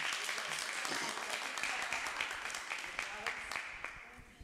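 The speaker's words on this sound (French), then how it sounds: "je pense qu'il peut applaudir le public" A live television audience applauds, a fairly distant, steady patter of many hands that thins out gradually, with a voice speaking over it.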